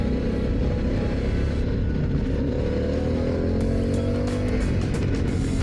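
Harley-Davidson Pan America 1250 Special motorcycle, a 2022 model, with its engine revving up and accelerating hard in sport mode, a steady loud close-up rumble with rising tones that holds for the whole stretch with no talk.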